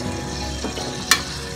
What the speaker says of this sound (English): And it's frying a little bit